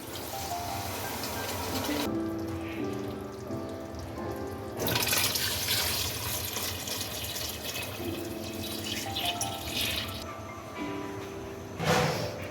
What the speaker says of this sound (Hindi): अब इसमें यखनी ऐड कर दें।